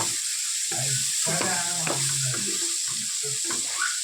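Mutton brain being stir-fried in a pan in a home kitchen, a continuous close sizzle with scraping stirs and soft clinks of the spatula against the pan throughout.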